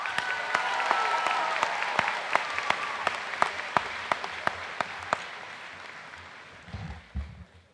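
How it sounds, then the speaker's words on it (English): High school commencement crowd applauding an honoree, a broad wash of clapping with a few loud, rhythmic claps punctuating it, tapering off after about six seconds before some low rumbling handling noise. "please give a warm round of applause for Bryn Stoneberg"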